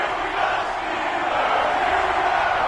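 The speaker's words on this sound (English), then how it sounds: "This crowd is ready as their guys get set to match up between the Tennessee Titans and the Pittsburgh Steelers." Steady, dense stadium crowd roar from an NFL video game on PS4 ahead of a Tennessee Titans versus Pittsburgh Steelers matchup, an even wash of cheering and chanting that holds loud and unbroken throughout.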